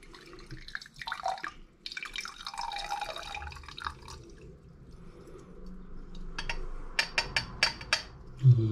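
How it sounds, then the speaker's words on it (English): Gold stripping solution is poured from one beaker into another, giving soft liquid trickling and splashing followed by a series of sharp drips and a small glassy clink near the end, all close and fairly quiet. "let me just move this solution to another beaker"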